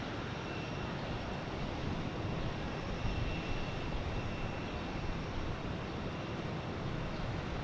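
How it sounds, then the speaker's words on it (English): A Turkish Airlines Airbus A350-900 arriving from Istanbul at Boston Logan makes a steady, broad jet roar that holds evenly throughout at moderate, distant loudness. "Turkish Airlines coming in from Istanbul"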